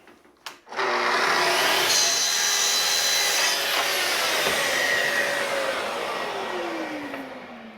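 A Festool saw cuts through material on an MFT/3 table: after a short clunk the motor spins up into a loud, sustained whining cut that holds steady for several seconds, then slowly tapers off.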